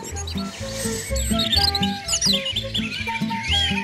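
Bright, quick European robin chirps and twittering calls over a steady, rhythmic music bed, the song phrases repeating in short bursts.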